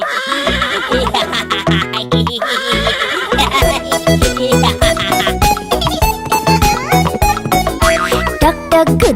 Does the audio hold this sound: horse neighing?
yes